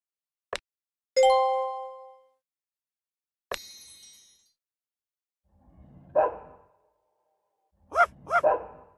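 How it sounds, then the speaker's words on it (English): A dog in the Piper's Pet Cafe video game barks in a few sharp bursts near the end, including a quick double bark, after several bright game chimes and dings. "What's that dog barking at? It really has a bee in its bonnet. Why won't it stop barking?"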